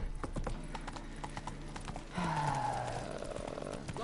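Roach, the horse in The Witcher video game, gallops with a fast, steady clip-clop of hooves up close. Midway a drawn-out whinny rises over the running hoofbeats.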